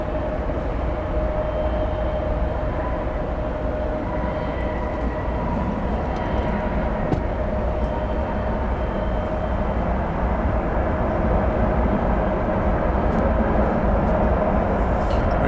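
American Airlines flight from San Diego arriving at DFW Airport at night, a steady loud broadband roar with a faint sustained tone, constant throughout, distant and without voices.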